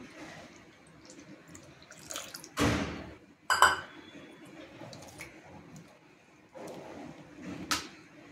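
Milk poured into a bowl of chopped watermelon and stirred in, with a few short liquid splashes and squishy mixing sounds between quiet pauses, close by.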